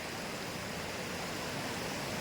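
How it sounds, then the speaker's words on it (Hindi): A river flows through deep forest in Chhattisgarh, producing a steady, broad rushing wash of water that stays even throughout with no voices. "जहाँ पे एक सुंदर सा नदी जा रहा है"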